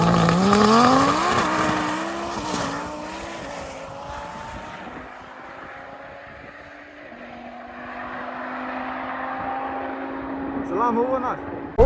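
Cars accelerating hard in a drag race between an electric hypercar and a Lamborghini, with rising engine and motor tones sweeping up through gear changes, loud and close, with people talking over the noise.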